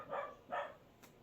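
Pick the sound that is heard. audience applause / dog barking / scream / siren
dog barking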